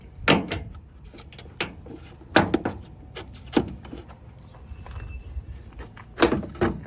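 A taillight lens is pulled and wiggled loose from a 2015-2022 Chevy Colorado, making scattered sharp plastic clicks and creaks in irregular bursts, close by with quiet gaps between.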